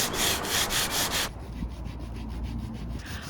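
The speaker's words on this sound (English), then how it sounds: "did a quick sanding of the bottom, focusing on certain areas." Sanding the bottom of a Catalina Capri 26 sailboat hull, heard as a loud, steady rhythmic rubbing scrape that drops to quieter, fainter strokes partway through, with no talking.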